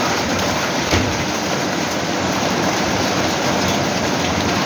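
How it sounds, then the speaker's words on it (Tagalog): Rain falls steadily around an old clubhouse, a loud, dense, even hiss of drops with no pauses, near and constant, with no talking. "Umulan na eh."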